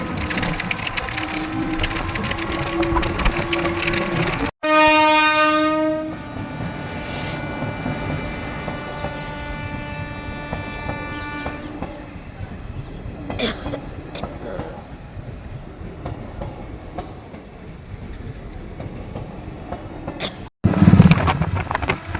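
Train at Prantik railway station: a loud rumbling passage with rail clatter, a long two-tone horn blast sounding for several seconds, then the noise fading away into quieter ambience with a sharp knock at the end.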